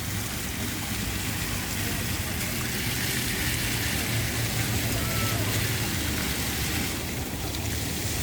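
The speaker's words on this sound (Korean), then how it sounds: "물쇼를 보겠습니다. 이 물분수 쇼." A water fountain show on a floating stage at Bulgwangcheon stream gives a steady, dense hiss and rush of spraying and falling water that stays loud and unbroken throughout.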